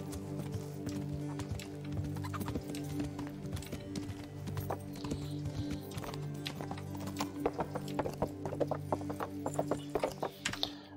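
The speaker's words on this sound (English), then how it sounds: "But the horse, we named Carl, pretty much." Horse hooves clip-clop steadily in the video game Kingdom Come, growing louder and more distinct toward the end, with a brief whinny and faint mechanical clatter in the background.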